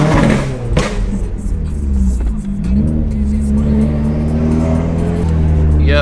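A Subaru WRX with a stage 2 setup and loud exhaust drones and revs close by, its deep engine note rising and falling steadily throughout.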